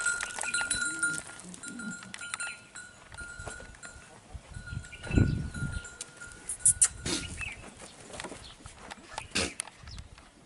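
Ajmeri goats on a farm bleat several times in irregular calls at mid distance, amid rustling, shuffling and a faint bell-like tone, with no speech.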